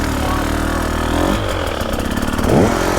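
A Honda CRF 450 R motocross bike converted to enduro, its engine idling roughly close by, then blipped into two quick revs that rise and fall within a few seconds.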